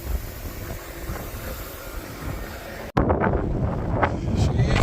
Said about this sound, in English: She's a windy one all of a sudden.